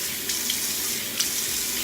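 Lukewarm water runs steadily from a bathroom tap into a sink, a close, continuous hiss with a couple of small splashes and no voices.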